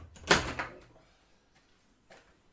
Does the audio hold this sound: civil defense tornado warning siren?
no